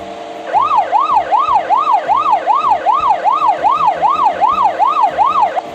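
An emergency vehicle siren in a 3D driving game wails in fast, regular up-and-down sweeps, loud and close, over a faint background engine hum.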